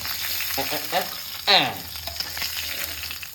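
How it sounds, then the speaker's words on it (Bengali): Bhola fish fry in hot oil, a close, steady sizzle with spatula scrapes and a sharp burst of spitting as pieces are lifted out, under faint background voices. "একদম ভোলা মাছ এবার কিন্তু মাছগুলো আস্তে আস্তে ওঠানো হচ্ছে"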